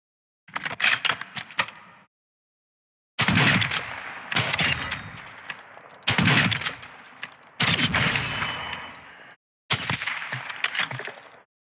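Rapid volleys of SPX 80 rifle fire crack out in Call of Duty DMZ, five separate bursts of sharp, close shots with short silent gaps between them and no talking.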